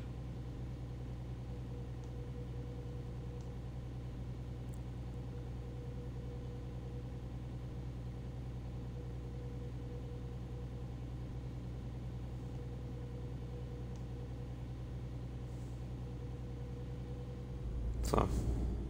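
A truck engine drones steadily at low volume while driving in On the Road, a constant hum with no change until a brief louder bump near the end; someone talks over it.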